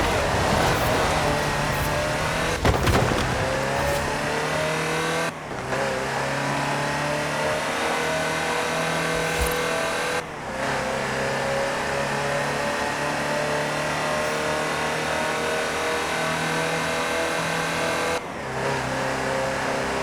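A Land Rover Type 3 drives in Forza Horizon 4, its steady mid-pitched engine drone running continuously and fairly loud, with a few brief dips where the sound cuts or shifts.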